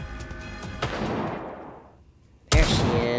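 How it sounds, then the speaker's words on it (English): Gunfire and explosions from the video game Nikke, a burst of booming shots that fades out and then returns with a sudden loud blast, all in the distance with no talk. "Sound of gunfire and explosions can be heard in the distance."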